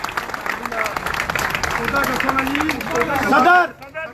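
An audience at a pigeon-flying association gathering breaks into applause, with clapping and crowd chatter mixed under an announcer's voice, swelling to a loud burst before cutting off.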